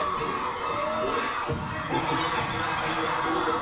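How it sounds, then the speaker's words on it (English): Concert crowd at an ATEEZ show in Atlanta roars and chants continuously, a dense wash of cheering and shouting voices heard from up in the stands, loud and sustained throughout. "Cool to hear the band chants because they're so hyped."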